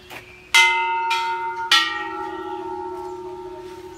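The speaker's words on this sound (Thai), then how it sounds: "ไปเออเคาะระฆังเอาบุญนะครับ" A temple bell at a Thai temple in Sisaket province is struck three times, each clear metallic strike followed by a long ringing hum that sustains and slowly fades, close and loud.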